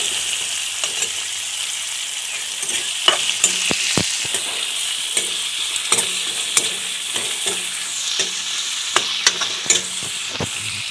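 Meat stirs and fries in a hot pan, a steady close sizzle lasting throughout with repeated scraping clicks from the spoon against the pan and no talking.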